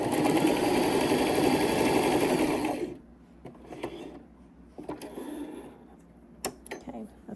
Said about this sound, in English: And let's sew.